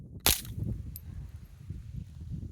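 .22 caliber gunshot fired during a penetration test: a single sharp, loud report near the start, followed by a faint click and low background rumble.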